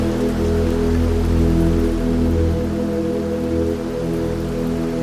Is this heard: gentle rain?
yes